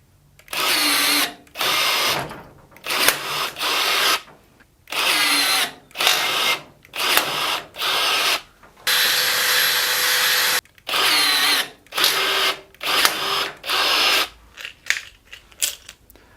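Cheap cordless 1/4-inch rivet gun pulling 25mm long rivets, about a dozen short whirring motor bursts in quick succession, each lasting about a second and separated by brief silences, close and loud.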